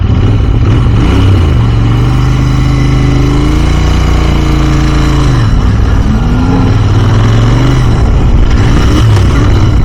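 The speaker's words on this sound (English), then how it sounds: "I don't know how well the microphone will pick up the sound on the exhaust" A Royal Enfield Continental GT 650's loud exhaust burbles and revs up and down close by, the engine note rising and settling over several seconds.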